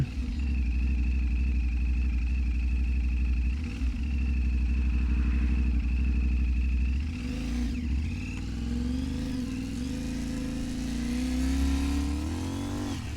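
A motorcycle riding along a road, its engine droning steadily and close for most of the stretch, then revving and climbing in pitch toward the end, with no voices.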